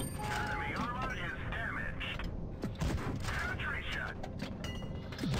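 Tank cannon fire and clanking mechanisms in World of Tanks Blitz, with the Lorraine 40 t French medium firing several sharp shots from mid-distance over layered game sound effects and a busy battlefield mix.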